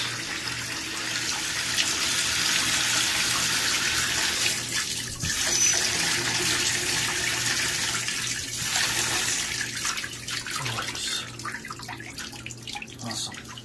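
Water runs steadily from a house shower that has just been repiped, a loud continuous hiss and splash that goes on for nearly fourteen seconds, easing slightly toward the end, with no talk.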